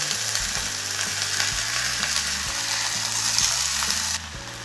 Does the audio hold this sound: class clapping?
no